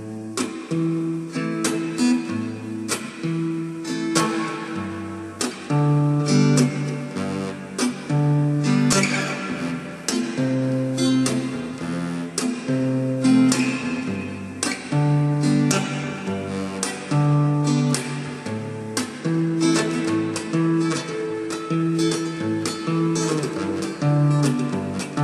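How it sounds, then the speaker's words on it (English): Acoustic guitar playing a Hindi song strumming pattern slowly, chords rung out between percussive muted downstrokes, a steady repeating rhythm heard close and alone. "in the downstroke again we are muting the string"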